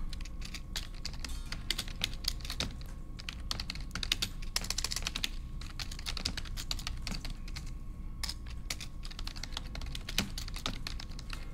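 Rapid, uneven keystrokes on a computer keyboard during a Haskell programming class, a steady close clatter of clicks that runs for the whole stretch with no talking.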